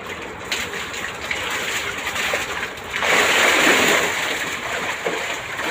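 Someone steps into a murrel fish tank outdoors; water splashes and gushes, swelling louder midway through, against a background of birds and outdoor noise.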